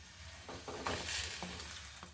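An egg butter naan paratha fries in a pan after being flipped, giving a low steady sizzle with a few soft scraping and turning noises; no one talks.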